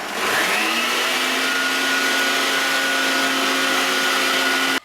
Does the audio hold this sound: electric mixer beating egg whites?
yes